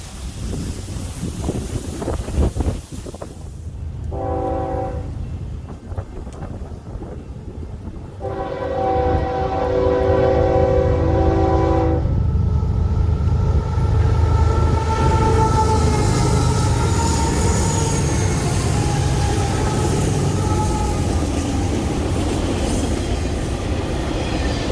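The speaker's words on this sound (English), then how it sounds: "Kelso Depot, just in time to see the train." A BNSF freight train rolls past Kelso Depot in the Mojave Desert, with a horn sounding in two blasts before a long, loud steady rumble of railcars under gusting wind noise.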